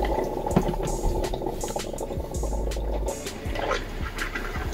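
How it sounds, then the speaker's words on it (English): Camper toilet with its flush valve held open as pink antifreeze gushes and gurgles through the bowl, a steady close bubbling flow that runs throughout. "we're gonna open the flush valve until we got antifreeze coming through"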